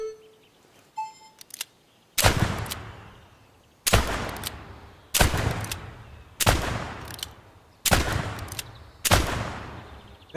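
Gunshots from a revolver in a video game, six loud, sharp reports spaced roughly every one and a half seconds, each ringing out with a short decay, with faint clicks just before the first shot.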